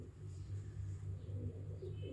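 Pigeons coo in low, soft, steady murmurs close by, a continuous burbling layer with faint background hum and no voices.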